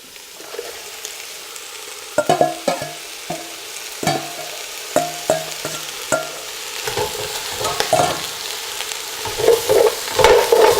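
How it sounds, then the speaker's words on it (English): Chicken bones and trimmed vegetables browning in a stockpot, with soft sizzling under repeated scraping and stirring knocks that come in irregular bursts, growing busier toward the end. "We're going to add all of our vegetables that we trimmed just a few moments ago. And we're going to brown that as well."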